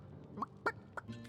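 A rooster clucks in Divinity: Original Sin, three or four short, fairly faint clucks spaced irregularly over about a second.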